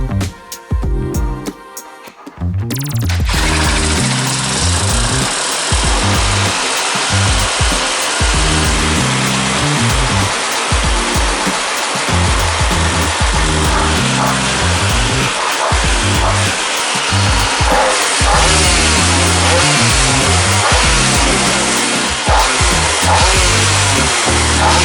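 A Honda CR125 two-stroke kart engine catches after a rough start and keeps running with a loud, buzzing, ragged idle and revs throughout, close and without talk.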